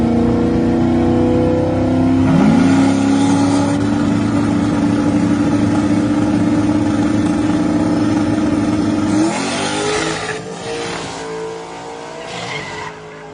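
Turbo LS Foxbody drag cars launching on a no-prep track, a loud sustained engine drone with rising pitch and tire squeal that cuts off abruptly, then fading rumble and distant crowd noise.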